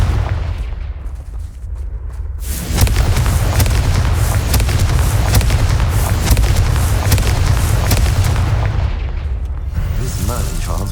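A sustained roaring blast from the Confringo fire spell in Hogwarts Legacy, a dense rumbling burst that swells after a quieter opening and holds for several seconds before tapering, loud and close.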